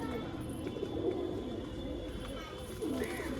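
Pigeons give low, throaty coos at intervals over a steady background hum, with faint voices in the room.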